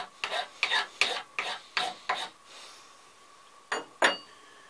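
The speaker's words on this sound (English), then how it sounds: "lightly square up the top. With a file." A hand file rasps across the top of an antler being squared up, six quick strokes in a steady rhythm, a pause, then two more close strokes.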